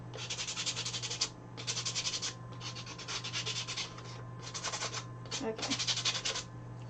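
Sandpaper rubs by hand over the rough edges of a wooden farmhouse tray in five or six rhythmic scratchy bursts, close up, over a low hum with a brief spoken word.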